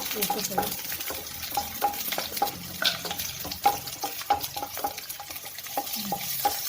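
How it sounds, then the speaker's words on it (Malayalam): Shallots sautéing in a pan, a continuous close sizzle broken by rapid regular spatula scrapes and light metallic taps as they are stirred. "ഇനി നമുക്ക് ചെറിയ ഉള്ളി വഴറ്റിയെടുക്കാം"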